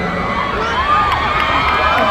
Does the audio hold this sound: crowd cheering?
yes